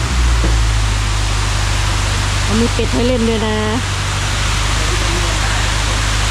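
Nau Ta waterfall in Karen State roars as a loud, constant broadband rush close by, with someone talking over it partway through.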